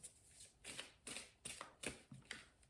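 Tarot cards drawn and laid out, a quiet series of about five soft papery swipes and slaps at an uneven pace, with no voices.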